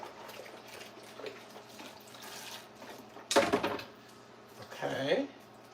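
Water runs from a tap in two short bursts as bowls are rinsed in a kitchen sink, with a soft drone and kitchen background noise in between.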